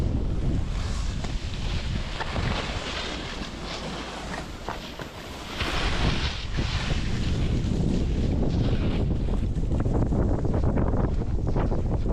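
Strong, steady storm wind on a ski slope at Palandöken roars across the microphone, a broad rushing buffet that eases briefly midway and then surges back at full force.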